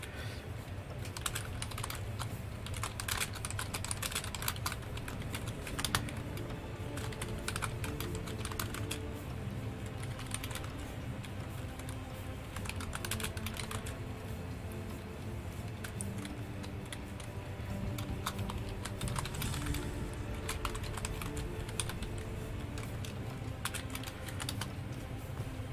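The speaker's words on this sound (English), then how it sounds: "I'm typing it in right now." Steady typing on a computer keyboard, a continuous patter of close, crisp key clicks in uneven bursts with no talk over it.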